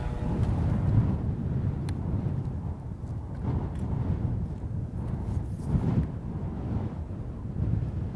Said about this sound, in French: malgré un vent très très fort parce que le cyclone s'est rapproché des côtes